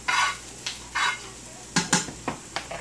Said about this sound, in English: I got my potatoes cooking